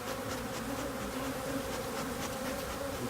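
Honeybees swarm and buzz densely at an open hive while two colonies are being merged during an inspection, a steady close drone with no pauses.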